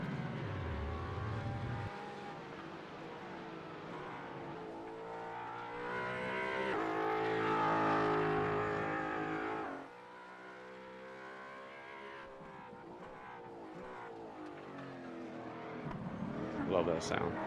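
Race car engines from the GT4 racing video game, a sustained buzzing drone that swells and drops as the cars accelerate and shift, with a commentator talking over it throughout.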